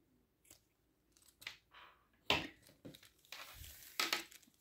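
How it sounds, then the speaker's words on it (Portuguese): Scissors snip cotton crochet twine in several short, crisp cuts and crunches, close and quiet, with irregular pauses between snips. "Vou cortar meu fio."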